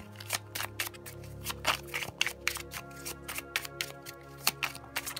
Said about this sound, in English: I'm gonna go ahead and grab a few tarot cards here